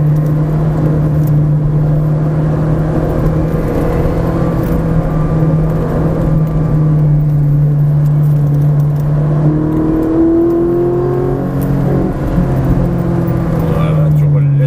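A Ferrari 458 Italia engine drones steadily from inside the car on a race circuit, its pitch rising and shifting as it accelerates, with someone talking over the engine note.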